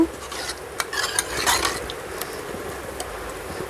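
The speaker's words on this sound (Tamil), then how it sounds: "இப்போ நம்ம அப்படியே கரண்டி இலையை நல்லா மசிச்சு விட்டுக்கலாங்க" A ladle mashing cooked lentils and turkey berries in a pot, giving close scraping and clinking strokes with a soft wet squelch, irregular and moderately loud.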